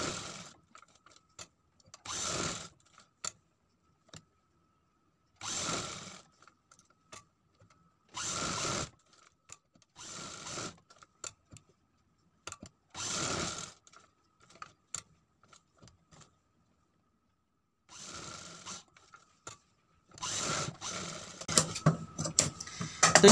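A sewing machine runs stitching along the buckram edge of a sleeve in short repeated bursts of a few seconds each, separated by silent pauses, with a longer, busier run near the end; no one talks.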